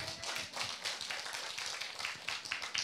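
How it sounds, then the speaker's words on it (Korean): A church congregation at a Korean Christian conference claps in a quick, steady rhythm, moderately distant and fairly soft, with no talk over it. "다시 뜨거운 박수 전합니다"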